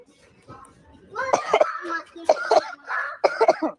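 A few rough coughs and throat-clearing sounds come in short clusters, close to the listener, mixed with a voice.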